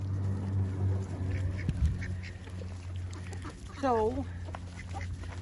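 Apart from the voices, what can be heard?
mallard and cayuga ducks quacking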